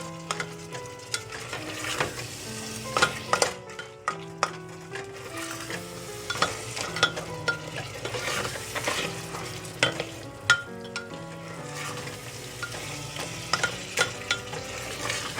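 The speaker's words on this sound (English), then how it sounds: "So I'm mashing the tomatoes a little bit." Tomatoes being mashed and stirred in a pan over high heat for a moong masoor lentil dal, with a steady sizzle under irregular scraping and tapping of a utensil against the pan, close and clear with no talk.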